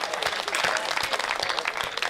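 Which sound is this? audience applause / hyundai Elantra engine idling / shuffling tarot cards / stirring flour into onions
audience applause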